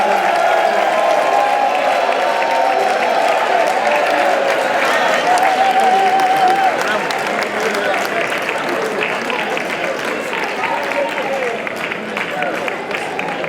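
Town hall audience in Canada applauding the President of Ghana, a loud sustained wash of many hands clapping that holds steady, then eases slightly toward the end, with crowd murmur and faint voices beneath.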